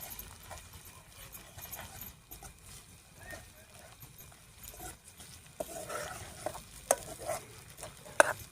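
Roasted onion goes into a frying masala paneer gravy, with soft stirring scrapes and a faint sizzle, quiet and close, a few louder clinks near the end, while a person talks over it.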